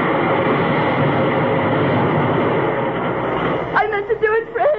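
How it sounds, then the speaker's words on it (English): Steady rumble and rattle of a train pulling out of a station in a radio drama sound effect, loud and continuous, with a few sharp squeals and clatters near the end. "I see the train leaving right on the edge."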